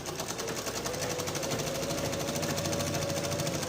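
A sewing machine runs continuously at close range while stitching the V neck of a frock, giving an even, rapid needle rhythm with no pauses.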